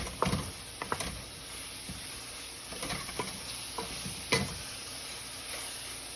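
Spices being sautéed in a pan for a meatball dish, with a low continuous sizzle broken by irregular spatula scrapes and taps, close and without talk.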